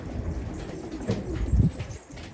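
Pigeons on a rooftop give low, soft coos in a few short bursts against steady outdoor ambience.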